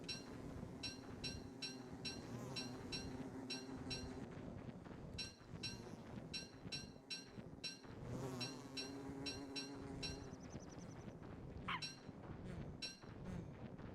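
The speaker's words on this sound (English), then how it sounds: "Got a lot of homeless bees now" Bees in the video game Don't Starve buzz in a busy, wavering drone, with repeated short pulses and occasional small clinking sounds layered over it.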